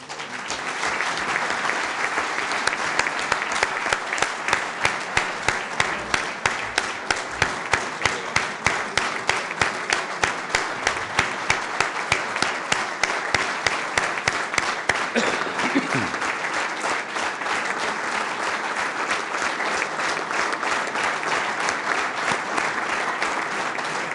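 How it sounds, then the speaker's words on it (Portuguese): A crowd at a joint PSD/CDS-PP parliamentary gathering gives sustained applause for parliamentarians, settling into loud, synchronized rhythmic clapping that beats steadily for much of the time, with a brief voice or shout partway through. "eu acho que eles merecem essa salva de palmas"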